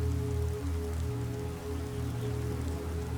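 Rain falls steadily in a video game world, a dense, even patter that fills the whole stretch with no voices.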